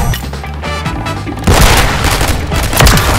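Akimbo magnum pistols fire in a video game: loud, booming shots burst out in quick succession after a quieter, tonal opening, with heavy crashes continuing to the end.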